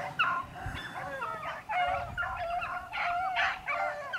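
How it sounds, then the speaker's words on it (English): Hunting dogs bay and yip continuously while chasing a rabbit in Missouri countryside, several overlapping voices at moderate distance with steady, excited howling. "The dogs are chasing a rabbit in here."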